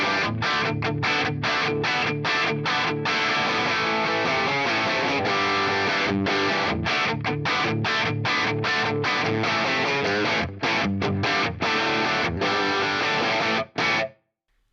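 Distorted electric guitar through the AX8 modeller's AC20 amp model near stock settings, a loud, continuous strummed rhythm of chopped chords with short stops, heard alone.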